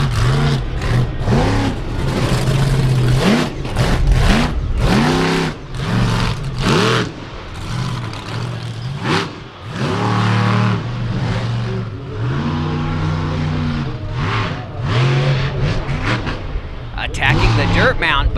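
A modified off-road truck at the 4-Wheel Jamboree Nationals track in Indianapolis roars through repeated loud revving surges and throttle blips. A commentator talks over the engine at close range.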